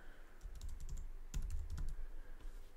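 Quiet keystrokes tapping on a computer keyboard as a crypto search is entered, a short uneven burst of clicks with no talking.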